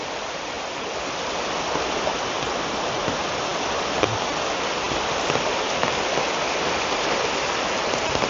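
Heavy rain falls in a steady, full hiss with scattered close drips and splashes, and no voices.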